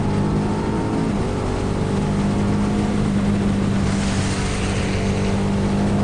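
A KTM hypersport motorcycle runs on a race circuit, its engine a steady loud drone with a sustained tone that shifts pitch slightly as speed changes, wrapped in heavy wind noise from the rider's position.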